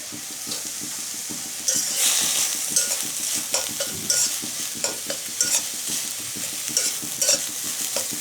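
Spinach is stirred with a spatula in a hot pan, giving a rhythmic scrape and shuffle over a soft sizzle, with clinks of the utensil against the pan and no talking.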